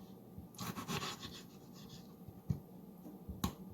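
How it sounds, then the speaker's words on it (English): A knife cuts tomatoes on a cutting board during home cooking of a garden salad, making a few soft, scattered taps and scrapes close by, with two sharper knocks standing out near the end. "I'm just going to dice the tomatoes."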